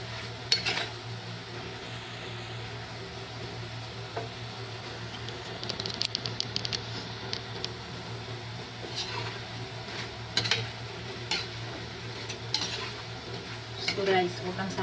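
Chicken adobo without soy sauce (adobong puti), seasoned with pepper, coming to a boil in a pot on a gas stove, giving a steady low bubbling and faint sizzle with occasional utensil clinks, close and fairly quiet, with no talking.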